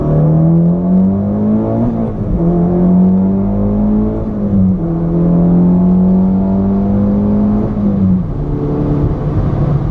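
A Mitsubishi Lancer Evolution X pulls hard in second gear, its engine note rising steadily through several surges with brief dips between them, loud and close with a constant road rumble underneath.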